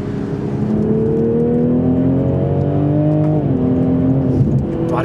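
A 2020 Toyota GR Supra with a 340 PS turbocharged engine pulls hard uphill, its steady rising drone climbing in pitch through a gear, then dipping briefly and rising again, loud and close from inside the cabin.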